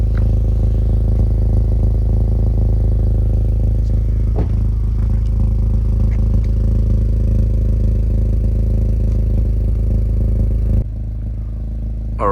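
A 2023 Acura Integra Type S with an Invidia Q300 catted downpipe and 3-inch exhaust idles with a deep, steady low rumble, close and continuous with faint clatter, dropping slightly near the end.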